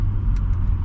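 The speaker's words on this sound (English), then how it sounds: "Give you guys like 2 little downshifts. Alright. Nice little downshift action," A BMW M5 Competition engine rumbles steadily through a downshift, a loud, close, continuous low drone with brief blips of higher-pitched noise over less than a second.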